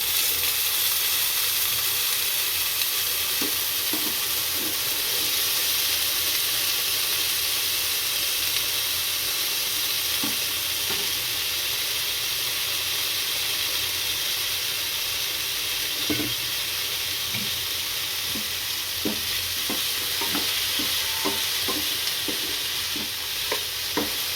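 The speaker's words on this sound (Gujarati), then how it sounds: "હવે આપણે બટેકાની પથરી નાખશું" Sliced potatoes fry in a pan for Bihari aloo bhujia, with a steady sizzle throughout and scattered scraping clicks as a utensil stirs them. No voices are heard.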